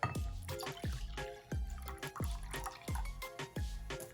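Water and milk being poured into a mixing bowl for dinner rolls, heard as a series of close, rhythmic splashing and dripping pours, repeated about every half second with no talk.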